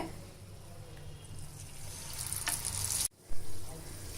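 Murukku pieces fry in hot oil with a steady soft sizzle and bubbling, rising in brightness before a brief abrupt cut, then the sizzle resumes.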